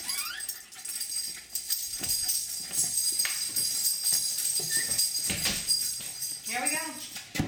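Two Jack Russell Terriers whimper and yip in high, wavering bursts before setting off on a walk in a park, close by and mixed with people talking.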